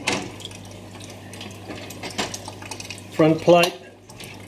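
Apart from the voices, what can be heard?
clock parts being rinsed in liquid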